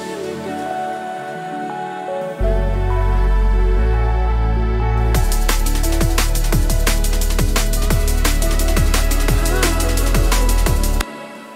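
Electronic track with an arpeggiated synth treated with crystallizer, distortion and panning. A sustained pad gives way to a loud deep bass, then bright rhythmic plucked notes pulse steadily until a sudden cutoff.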